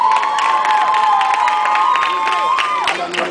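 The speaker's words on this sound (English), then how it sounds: "give those Greeks a round of applause" A loud crowd at a university pep rally cheers and claps, with shrill whoops and high shouts riding over a dense wash of applause.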